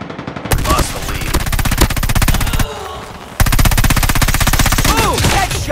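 Rapid automatic gunfire from the Call of Duty Mobile video game, loud and nearly continuous bursts of fast shots with one brief lull in the middle.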